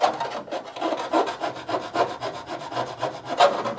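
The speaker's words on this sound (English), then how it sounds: "I know that's not the right way to use the file." Metal file rasped back and forth against the steel body panel of a crew cab Charger under restoration, a steady rhythm of about five gritty scraping strokes per second, loud and close with no talking.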